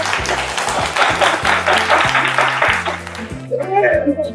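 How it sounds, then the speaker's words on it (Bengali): An audience at a family contest event in a jewellery store claps loudly, with bursts of applause under an excited host's voice that fades into chatter at the end. "আরেকবার জোরে হাততালি হয়ে যায়।"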